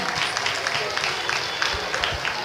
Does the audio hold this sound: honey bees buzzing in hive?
no